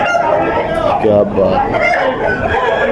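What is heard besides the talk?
roosters crowing, Aseel fighting chickens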